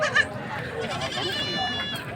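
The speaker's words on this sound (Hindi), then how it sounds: "ये है इस बकरी के बच्चे, इस बकरी के बच्चे हैं।" Goats and young kids bleat at a livestock market in Hyderabad among pregnant does for sale, with short calls rising over steady crowd noise and close conversation.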